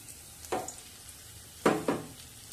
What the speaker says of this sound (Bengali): এবার বেরেস্তাটা ভেজে তুলে নেব।